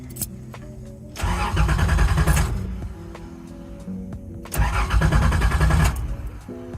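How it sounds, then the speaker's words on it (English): A Nissan Z31 engine with a suspected ignition fault cranks on its starter in a shop, two separate churning bursts of about a second and a half each, loud and close, separated by a quiet pause, with no catch. "so I just want to even see if it cranks right now"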